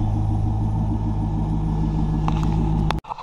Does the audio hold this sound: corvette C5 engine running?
yes